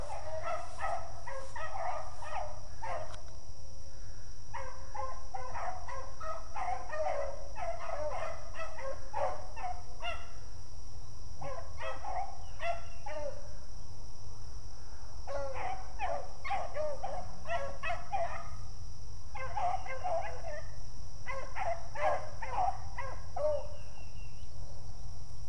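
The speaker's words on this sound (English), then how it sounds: "So, here comes the dogs." Beagles bay in repeated bursts while hunting a rabbit outdoors, a chorus of yelping hound voices coming in waves from a moderate distance over steady background wind or field noise, with no talking.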